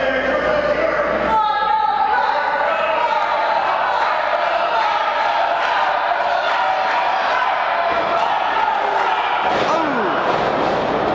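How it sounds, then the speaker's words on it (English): Pro wrestling audience cheering and rallying behind a wrestler, a loud, continuous crowd roar with thuds from the ring and commentary on top throughout. "Crowd rallying behind Virgil"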